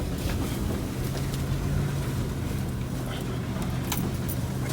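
A truck drives over rough ground with its wheels spinning and slipping while fencing is being installed, giving a steady, loud engine-and-tire rumble throughout with scattered rattles and clunks from the underside.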